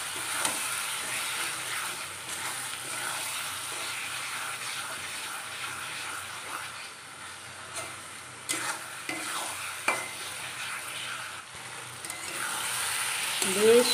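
Goat fat fries in a pan while being stirred, a steady sizzle with intermittent scraping strokes and knocks from the spoon, rising slightly louder toward the end.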